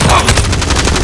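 Automatic gunfire in Call of Duty: Modern Warfare hammers out in a fast, loud, steady burst of rapid shots that fills the short moment.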